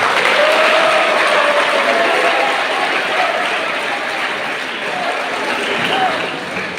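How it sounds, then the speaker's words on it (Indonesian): Students and guests at Seminari Pius XII Kisol clap for the emcee during the governor's address, a loud, even burst of applause that gradually eases, with faint voices underneath. "Tepuk tangan buat MC dulu."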